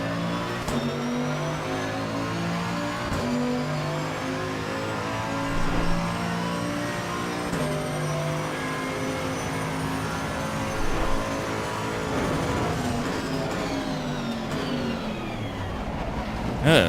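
Mercedes-AMG GT2 race car in a racing video game, engine droning steadily and loud throughout with layered harmonic tones rising and falling through shifts, continuous revving with no gaps.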